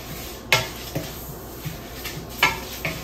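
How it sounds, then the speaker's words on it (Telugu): White sesame seeds are dry roasted in a pan and stirred with a utensil, producing a soft rustling hiss broken by several sharp metallic scrapes and clinks against the pan, close and without talk. "ఇది మనం ఇప్పుడు డ్రై రోస్ట్ చేసుకుందాము"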